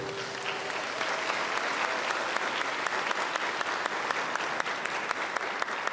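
Sustained, even applause from a large audience at an induction ceremony for newly qualified physician assistants in Ghana, a dense continuous wash of clapping with a few sharper individual claps standing out, holding steady throughout.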